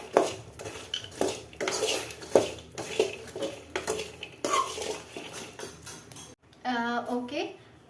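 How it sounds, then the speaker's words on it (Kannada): Makhana (fox nuts) stirred in a pan over a gas flame, with repeated scraping and clinking of a utensil against the pan and a faint sizzle, while a voice talks over it. "ಈಗ ಗ್ಯಾಸ್ ಆನ್ ಮಾಡಿಬಿಟ್ಟು ಸ್ವಲ್ಪ ಹೊತ್ತು ಫ್ರೈ ಮಾಡ್ಕೊಳ್ಳಿ"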